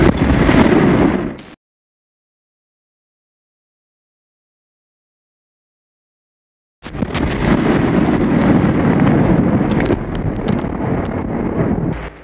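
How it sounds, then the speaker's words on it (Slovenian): Infantry gunfire and shelling crackle and boom at the Šentilj international border crossing during the 1991 Slovenian war of independence, loud and wind-buffeted, cut off by a long stretch of silence before the sharp bursts resume. "Slišite lahko streljanje pehote, obstreljujejo se tako pripadniki jugoslovanske armade in slovenske"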